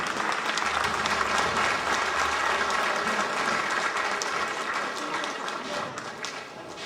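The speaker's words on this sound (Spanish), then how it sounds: "Un aplauso fuerte." Steady applause from an audience at a signing ceremony for agreements with the Municipality of Oaxaca de Juárez, a dense, even clapping that fills the whole stretch and eases off slightly toward the end.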